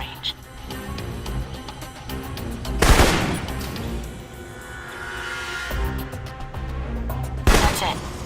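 Rifle shots in the spy game Alpha Protocol ring out as sharp bursts, with two prominent loud blasts amid a busy in-game background of smaller impacts and a voice speaking over parts of it.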